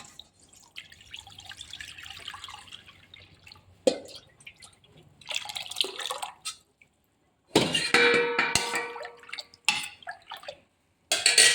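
Strained liquid of ragi and touch-me-not is poured into a pot, giving close, intermittent splashing and trickling in several bursts separated by short silences, with a faint metallic ring from the vessel.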